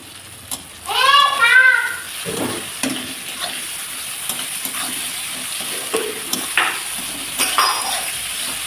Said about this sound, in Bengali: এটা একটু ভাজা হোক ভাজা হোক কষানো হোক